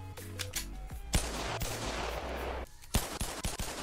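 Glock pistols fired in the virtual reality game BONELAB, producing sharp, loud gunshots in quick succession with a few isolated single shots, close and punchy over a low game background hum.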